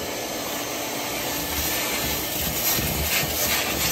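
A vacuum with an upgraded hose cleaning a floor, a steady loud whooshing roar with a constant high whine running unbroken from start to finish.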